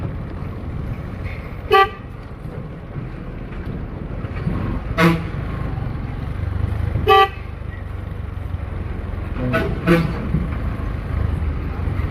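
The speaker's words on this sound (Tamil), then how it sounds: "இண்டிகேட்டர் போட்டேங்க லாரி போகுதுன்னு பார்ப்போம்" A lorry on a road signals a left turn while its horn gives several short, loud toots spaced a few seconds apart, two of them in quick succession, over steady traffic rumble.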